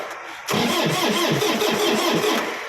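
A used Yanmar tractor engine from 2011 with about 3,994 hours cranks and catches after half a second of quiet, then settles into a loud, steady diesel idle with a rhythmic knocking pulse.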